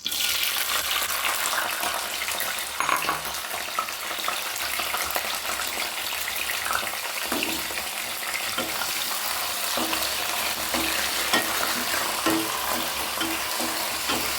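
Steady, dense sizzling of raisins frying in hot oil in a pan, continuous and close, with occasional stirring scrapes.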